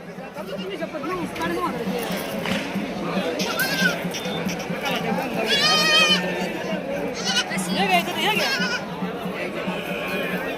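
Sheep and goats bleat repeatedly at a busy livestock market, some calls near and loud, over a constant babble of crowd chatter and voices.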